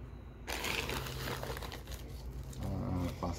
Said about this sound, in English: Plastic bags.